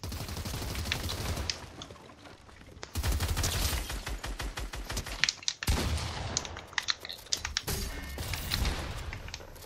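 Rapid bursts of gunfire from a shooting video game, with dense automatic volleys and scattered single shots going on loudly almost without pause, some sharp close cracks standing out.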